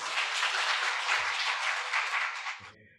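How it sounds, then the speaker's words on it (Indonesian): Audience applause at a school education camp event, a steady wash of clapping from many hands lasting nearly three seconds before cutting off abruptly. "Boleh tepuk tangan untuk beliau."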